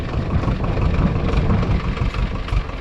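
A tractor engine hooked to a threshing machine for pigeon pea threshing rumbles steadily and close by, a constant low drone with no talking.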